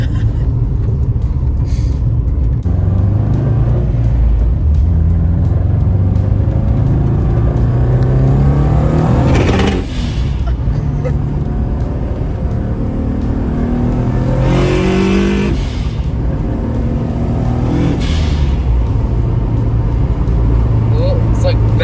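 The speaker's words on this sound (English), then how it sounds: "it's like backfires as soon as you get into the throttle" A big-turbo 2005 Subaru STI engine rumbles and revs loudly up close, a constant heavy drone with surges under the throttle, while voices talk nearby.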